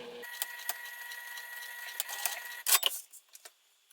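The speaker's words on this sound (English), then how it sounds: "I'm going to back stitch here." Sewing machine back stitching vinyl for a sling bag, a close, steady mechanical hum with regular needle ticks, ending in a few louder clacks and short bursts as stitching stops.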